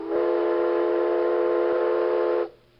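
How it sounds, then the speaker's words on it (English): In the Myst video game, a steady, loud train whistle holds one sustained tone for over two seconds, then cuts off abruptly into quiet. "That's a train"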